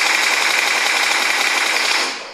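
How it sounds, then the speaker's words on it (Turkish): Sustained automatic gunfire in PUBG Mobile, a dense, loud, unbroken burst of rapid shots lasting about two seconds before cutting off. "Böyle ateş edeyim."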